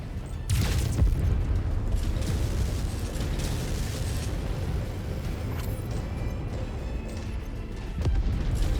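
Heavy autocannon fire in MechWarrior 5 combat: loud, dense booming bursts sustained for several seconds with sharp onsets near the start and end, no voices.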